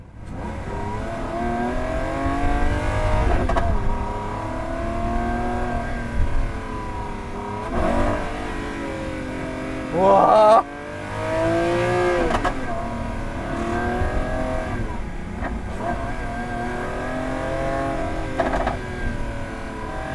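Lamborghini Aventador Ultimae LP780-4 roadster with a V12 engine, rear window open, revs hard and loud and close, the roar rising and falling over and over, with one short excited exclamation partway through.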